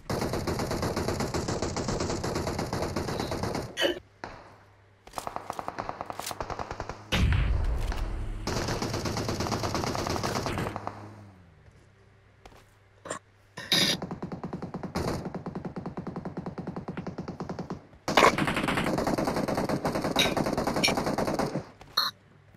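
Repeated bursts of automatic gunfire in a battle royale shooter game, loud and close, rattling in long sustained volleys with short pauses between them and no talk over them.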